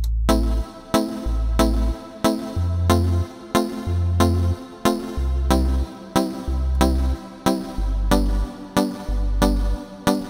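A deep reggaeton bass line, dropped two octaves and layered with a bright synth pluck, repeats in steady looping phrases in Studio One, loud and alone with no voice over it.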